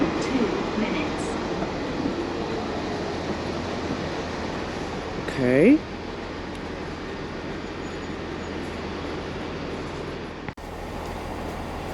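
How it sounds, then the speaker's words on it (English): A London Underground Central Line train rumbles steadily at the platform, with a brief wheel squeal partway through and a voice speaking briefly. "The next train to Epping will arrive in 2 minutes."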